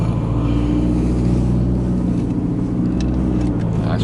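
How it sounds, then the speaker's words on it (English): A Porsche drives past on a German road, heard from inside a moving car as a loud, steady engine and road rumble that holds evenly throughout, with no voices. "Nice little Porsche."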